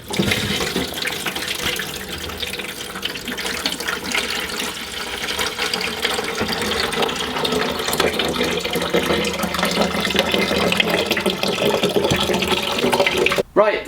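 Coolant water gushes out of a Toyota MR2 Mk1 radiator as it drains, a continuous close splashing and pouring that holds steady and grows slightly louder, with a voice talking over part of it.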